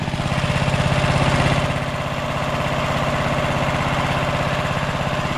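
A small gasoline engine, freshly refuelled, runs steadily at close range with a fast, even pulsing idle, slightly louder in the first second and a half before settling into a constant drone.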